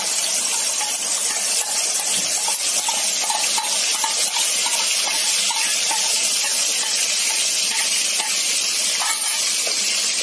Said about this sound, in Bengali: তো বন্ধুরা আমার তেলের মধ্যে ফার্স্টে দিয়ে নিচ্ছি পেঁয়াজ বাটা।